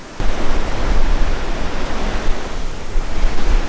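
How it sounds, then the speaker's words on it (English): Gusty wind buffets the microphone outdoors on Oahu, Hawaii, a loud continuous rushing roar that rises and falls in uneven surges throughout. "Oh, it's windy."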